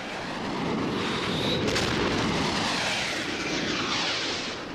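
Military fighter aircraft attacking an Egyptian airfield during the Israeli strike on the runways: a loud roaring engine rush with rumbling blasts and a brief sharp crack, close and sustained for several seconds.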